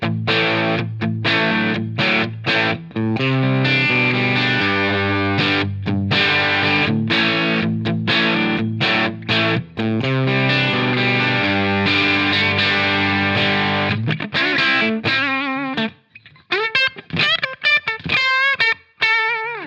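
An electric guitar on the bridge pickup through a Line 6 Helix modelling a jumped Marshall Plexi tremolo amp, with crunchy, driven tone, plays choppy chords and riffs, then lighter bent single notes near the end; no talking.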